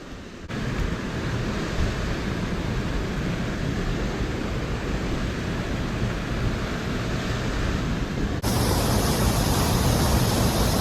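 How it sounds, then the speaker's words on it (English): A canyon waterfall running after a rainstorm gives a steady, loud, broadband rush of falling water that continues unbroken, getting brighter and louder near the end. "There's the waterfall"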